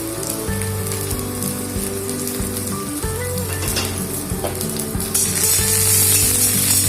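Chopped garlic sizzling loudly in hot oil during a Kolkata street-style stir-fry for veg Hakka noodles, a dense continuous crackle with stirring scrapes, swelling brighter near the end.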